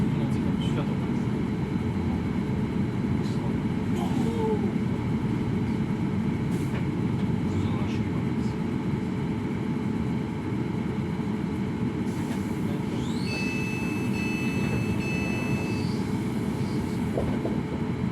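Train on the run from Portsmouth and Southsea to Southampton Central: a continuous rumbling, rattling rail drone throughout, with a brief brighter squeal near the end and no spoken words.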